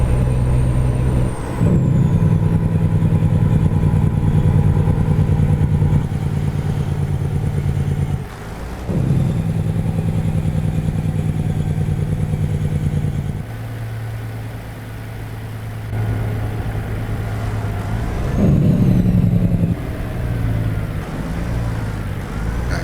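Custom Peterbilt 379 truck driving in American Truck Simulator: a steady, deep diesel drone that dips and rises with gear shifts, plus occasional air hiss, continuous and close, with no speech.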